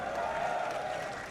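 A crowd applauds at a League of Legends esports event at EGX 2014, a brief, soft, continuous patter of clapping heard at a distance with a murmur of voices.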